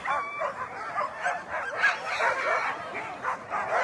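Sled dogs at the start line of the Willow 300 mid-distance race yip, bark and whine excitedly, a dense overlapping chorus of many dogs, close and steady throughout.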